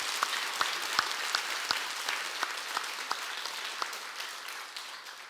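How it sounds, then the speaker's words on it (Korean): A church congregation at a Sunday daytime service claps warmly to welcome a newly registered mother and daughter, a steady roomful of applause with a few sharper individual claps standing out near the start. "우리 뜨거운 박수로 환영해 주시고."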